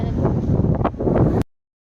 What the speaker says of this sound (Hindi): हद बाहर हवा चलत रही से।